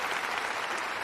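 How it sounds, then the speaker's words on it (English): A brief, steady burst of audience applause, dense and fairly loud, carrying on without a break. "That's the applause for Florida"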